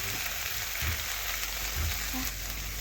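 Mustard and cumin paste sizzling in hot oil with turmeric and chili powder, a steady, even frying hiss with a few soft stirring scrapes, close and continuous with no voices.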